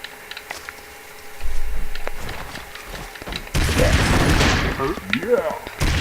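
Weapons fire in the side-scrolling action game Broforce, a busy mix of bursts, thumps and explosive crackles that swell loud in the second half, with game effects layered densely throughout.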